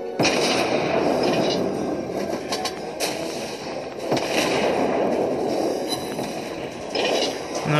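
Naval guns fire from warships in the game World of Warships, with booming blasts at intervals over a constant roar of battle and engine noise.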